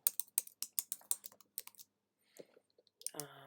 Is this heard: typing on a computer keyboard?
yes